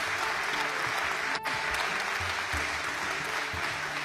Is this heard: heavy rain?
no